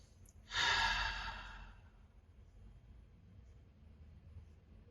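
A single deep breath, a breathy airy exhale that swells quickly, lingers for about a second and fades into quiet room tone.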